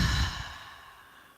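A single deep, breathy exhale during guided yoga breathing, close and fairly loud at first, then fading smoothly into a soft trailing sigh.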